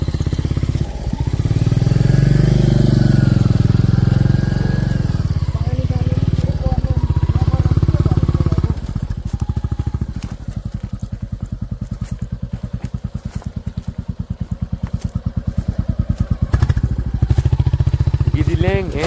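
A Royal Enfield Classic 350 motorcycle rides along a rough, bumpy rural track. Its engine gives a loud, close, steady thumping drone with rattles and jolts from the uneven ground, and voices are faintly present.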